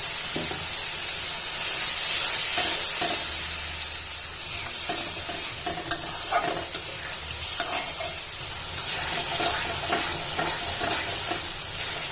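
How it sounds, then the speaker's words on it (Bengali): Spice paste frying in a pan with a steady sizzle, broken by occasional scrapes and stirring clicks, close and fairly loud with no voices. "মশলাটা ভালোভাবে কষিয়ে নিচ্ছি"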